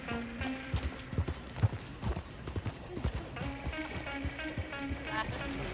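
Hooves of a horse-drawn coach clip-clop steadily on a road in Red Dead Redemption 2, with a rhythmic series of close thuds under a rattling, rolling background, alongside voices talking.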